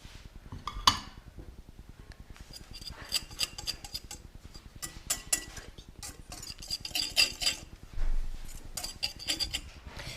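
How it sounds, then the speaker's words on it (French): Almond powder and sugar are mixed together in a mixing bowl, giving soft scraping and clinking strokes in an irregular rhythm, quiet and close, with no voices. "il faudra mélanger la poudre d'amande et le sucre dans un saladier"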